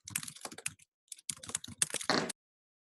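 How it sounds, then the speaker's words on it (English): Keys tapped on a computer keyboard in quick irregular bursts with brief pauses, close and clear, with no voices. "make sure to type in your information into the text boxes"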